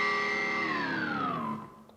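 An electric guitar in drop D runs through a whammy pedal on an octave-up setting, a sustained distorted note that bends smoothly downward in pitch before fading out, close and alone.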